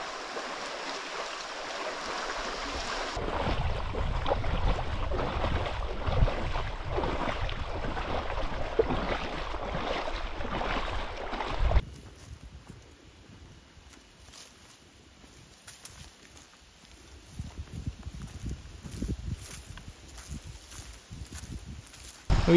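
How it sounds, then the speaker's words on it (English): Water splashes and swishes around legs wading through a shallow creek in Escalante, Utah, close by. The sloshing drops away partway through, leaving quieter trickling and occasional splashes. "it's kind of easier just to walk in the creek than try to find the trails"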